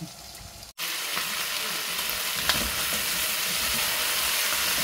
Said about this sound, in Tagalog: Sinusuti ko muna siya sa sibuyas bawang. Tapos binabrown ko siya ng kunti.